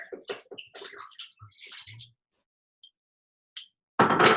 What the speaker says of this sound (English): I'm going to cover the rest of it with some cold water